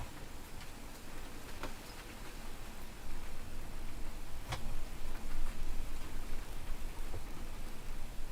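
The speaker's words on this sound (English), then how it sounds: "Can you hear it? Can you hear the rain?" Heavy rain pouring outside a workshop, a steady dense hiss of rainfall with a few sharp ticks and drips close by, continuous and loud throughout, with no talking.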